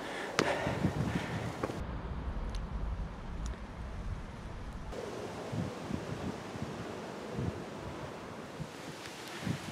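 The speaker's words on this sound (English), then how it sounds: "it's so windy here by the coast" Strong wind buffets the microphone on an exposed coastal hill at Killiney, south of Dublin, a steady roaring rush with heavy low gusts and surf-like noise throughout, no voices.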